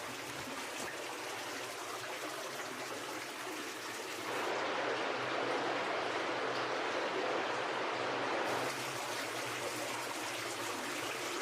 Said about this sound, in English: you will begin to hear the sound of moving water